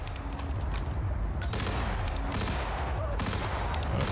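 Steady, close gunfire in the stealth game Hitman (2016), a continuous barrage of shots with sharp cracks standing out, loud throughout with no voices.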